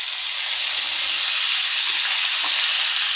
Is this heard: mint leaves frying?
yes